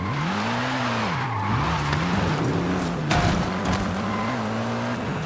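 A car drifting in Forza Horizon 5, engine tone wavering up and down under a steady roar of skidding tires and tire squeal, loud and continuous with a brief burst in the middle.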